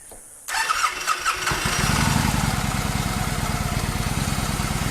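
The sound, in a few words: cold start of a 2014 Victory Hammer motorcycle engine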